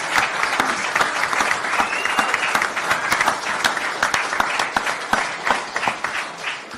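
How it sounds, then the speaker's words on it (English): A room full of people at a boxing post-fight press conference break into loud, continuous applause, with sharp individual claps standing out over the steady roar throughout. "a round of applause for an unbelievable performance"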